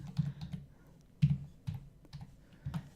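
Light clicks of a computer keyboard come in short bursts with brief pauses as an email address and password are typed, the keystrokes close and fairly soft, with no talking.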